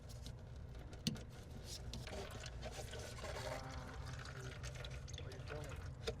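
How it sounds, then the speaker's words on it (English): Coolant drains from a military truck into a cut-down container laid with rags, a steady trickle of liquid running under close, continuous talk. "I'm draining the coolant out of this."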